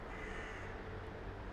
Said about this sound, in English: Oh, I hear a crow.